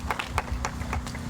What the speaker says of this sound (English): So I would love for you to give him a round of applause